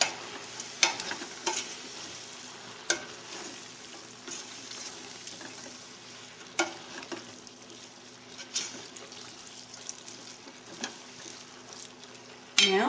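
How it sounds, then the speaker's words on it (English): Pasta and broccoli tossed with broth in a frying pan with tomatoes, giving a steady sizzle broken by scattered clinks and stirring scrapes of utensils against the pan. "We're going to add half of our broth. We're going to toss to coat everything again."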